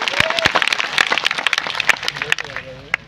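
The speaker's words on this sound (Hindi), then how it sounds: "इसलिए एक बार जोरदार तालियां आप सबके लिए।" Scattered, uneven clapping from a crowd at a tribal party's inauguration gathering, mixed with voices speaking and calling out over the claps.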